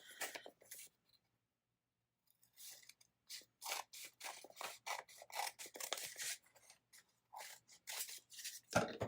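Scissors cut paper for a travel journal: after a quiet pause, a series of close, crisp snips and slicing strokes follows in an uneven rhythm, with no speech.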